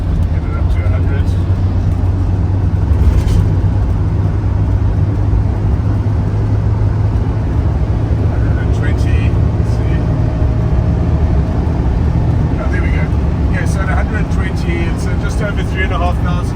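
A 1983 Mercedes-Benz W123 200 with a manual gearbox accelerates hard on an open road, its engine droning steadily with road and cabin noise throughout as someone talks over it.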